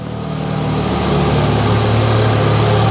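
A BMW 220i M Sport engine running with a misfire and a throaty tone from a snapped intake pipe detached from the throttle body, a steady close rumble that swells slightly in volume and has no talking over it.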